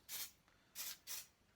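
A static grass applicator puffs flock fibres onto a model railway layout in three short airy hissing bursts, each under half a second, close and clear with quiet gaps between.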